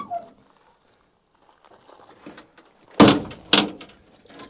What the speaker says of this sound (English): you want to hit that fender so we can get the door shut or get the door open?